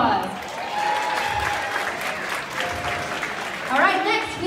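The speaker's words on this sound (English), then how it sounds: "Give her a round of applause." An audience at an Art Battle live painting event in Wichita Falls applauds a painter, sustained clapping of moderate loudness with a host's voice talking over it at times.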